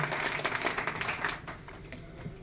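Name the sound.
audience applause for the people of Haryana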